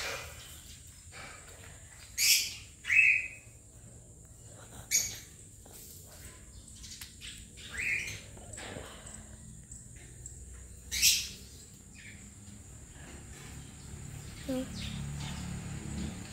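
Faint, sparse bird chirps sound a handful of times over a quiet background, with soft rustling and distant low noise between calls.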